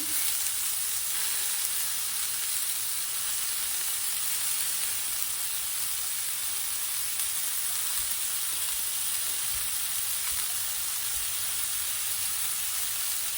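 İslim kebab pieces frying in a hot pan, a steady dense sizzle and crackle with hiss running unbroken for the whole stretch, close and fairly loud with no talk.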